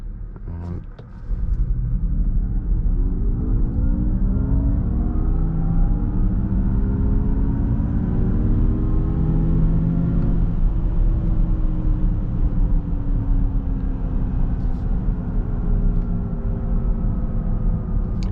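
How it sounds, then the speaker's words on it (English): A 2024 Honda Prologue Elite AWD electric SUV in sport mode pulls away after a stop, its synthetic drive sound rising in several layered tones over steady road rumble, then easing into a lower sustained hum, loud and continuous. "It definitely makes cooler sounds in sport mode."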